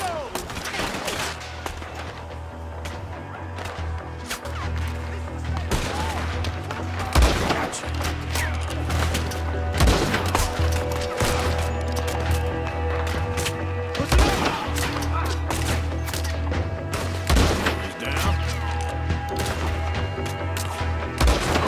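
Gunfire rings out during a shootout in the video game Red Dead Redemption 2, with repeated sharp shots scattered across a steady low rumble of background noise, some shots near and loud, others distant.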